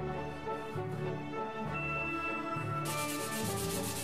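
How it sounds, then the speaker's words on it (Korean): A 3D-pen-built double-bladed axe has its blade ground down in steady, rhythmic back-and-forth rubbing strokes, close and fairly quiet, with no talk. "날이 무디구나 깨닫고 날을 갈아냈습니다"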